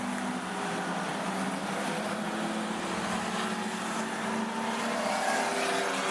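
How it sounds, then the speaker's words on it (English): A Ford Falcon race car cornering at Rockhampton Speedway during a Fender Benders race, a steady broadband engine roar that stays constant and fairly distant with no voices. "he is throwing the Falcon into those corners"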